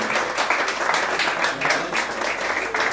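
Applause at a wedding celebration, a steady wash of many hands clapping in a room, moderately loud and continuous with slight swells.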